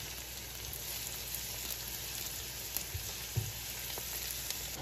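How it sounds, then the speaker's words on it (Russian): Onion and carrot fry gently in a pan with a soft, steady sizzle and a few light taps as they are stirred, quiet and close with no voices. "Лук и морковку обжариваем не сильно, так вот, чтобы просто они потеряли цвет"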